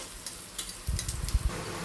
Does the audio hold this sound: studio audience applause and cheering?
no